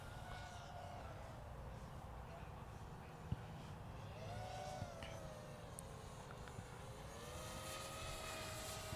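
A small drone flying overhead during beginner flight training, giving a faint steady propeller whine whose pitch rises and falls as it manoeuvres, while an instructor talks.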